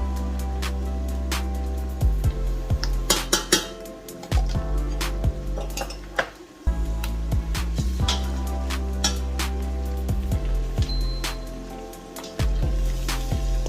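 Stew being stirred in a metal pot after tomato concentrate is added for a Nigerian stew, with repeated clinks and scrapes of a utensil against the pot over a steady faint background hiss.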